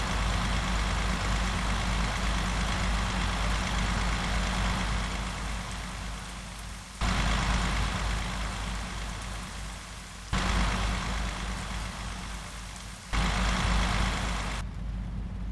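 A steady, loud idle from a truck engine in Euro Truck Simulator 2, heard from the outside camera, rumbles on with a low hum, broken by a few abrupt cuts where the sound jumps back in; no voices.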